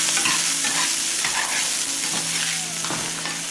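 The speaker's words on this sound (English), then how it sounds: "So I like to keep the skillet kind of hot and singe everything a little bit." Burdock fries in a hot skillet with a dense, continuous sizzle and crackle, loud and close, with occasional stirring scrapes and no voices.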